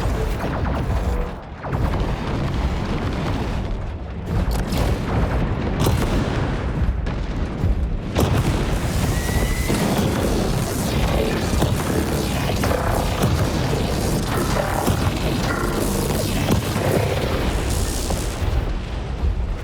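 Heavy cannon fire from combat robots in War Robots: Frontiers, with double-damage cannons booming amid a dense, continuous clatter of mechanical noise and explosions that stays loud for the whole stretch.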